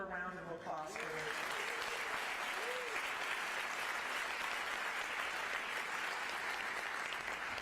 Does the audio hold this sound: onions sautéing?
no